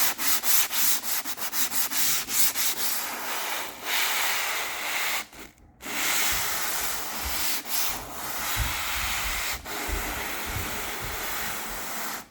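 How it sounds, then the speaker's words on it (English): Drywall-style sanding right in the corner where wall meets ceiling, a loud continuous rasping rub with steady strokes and a brief pause near the middle before resuming. "I'm not gonna sand the ceiling by accident"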